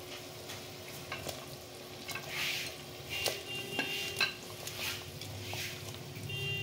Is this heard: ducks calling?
no